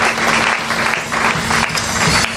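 A church congregation applauding during a French-language worship service: steady, dense clapping from a large group that lasts a couple of seconds, with a faint sustained tone underneath.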